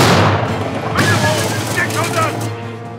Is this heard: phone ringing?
no